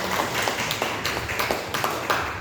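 Audience clapping for a stand-up comedy performer, a steady patter of many hands with small irregular bursts, fairly close and without voices over it.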